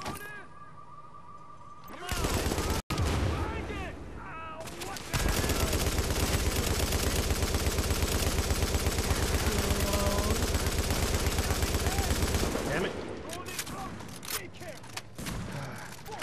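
Shotgun fire in The Division's Dark Zone: a single sharp crack, then a long, dense burst of loud, rapid gunfire lasting several seconds before tapering into scattered shots, with a player's voice talking over parts of it.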